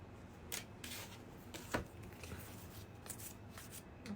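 Tarot cards are shuffled and drawn close by, with soft, papery riffles and quiet slides and taps in an irregular rhythm. The room is otherwise hushed.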